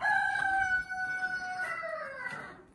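A rooster crows in a backyard chicken coop, a long drawn-out tonal call followed by further harmonic crowing and fowl calls, fairly close and clear with no talk.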